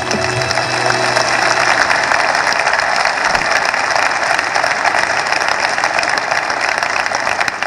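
Dense, steady applause from a large audience at an Armenian diaspora forum, cheering for compatriots, filling the whole stretch with unbroken crowd clapping and no voices.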